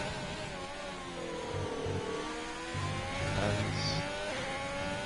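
Race car engine in a sim racing game on a flying lap at the Hungary circuit, a steady mid-pitched drone that revs up and shifts through the gears, under faint background noise.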